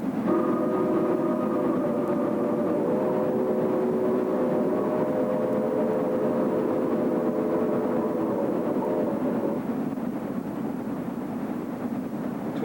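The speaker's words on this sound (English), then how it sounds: "Number 1250 heads up another coal train." A Chesapeake and Ohio steam locomotive hauling a coal train rolls past with a loud, steady mechanical roar and rumble, a sustained whistle-like tone fading out partway through, no voices.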